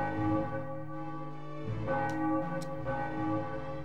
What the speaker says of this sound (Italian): Un rintocco di campana. È finito lo spettacolo al Borgo Teatrale.